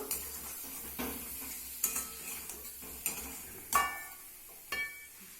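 Water is poured into a simmering potato curry with stuffed egg fritters to make gravy, giving a soft sizzle and splashes as the pan contents are stirred, with occasional clinks of a spoon against the pot.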